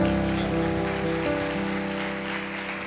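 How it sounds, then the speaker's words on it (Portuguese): A church congregation applauds at a Baptist service, a dense, continuous wash of many hands clapping together, with a sustained tone and faint voices underneath. "aplauda o nome do Senhor pela vida dele."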